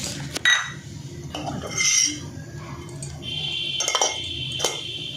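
A pot lid lifted with a cloth in a small home kitchen while cooking fish curry, giving a few metallic clinks and scrapes, then a brief ringing clank near the end.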